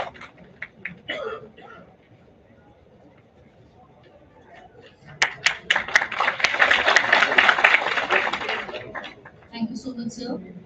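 Applause at an institutional ceremony swells into a sustained burst of many hands clapping in a hall, preceded by scattered claps and talk, then fading as speech resumes.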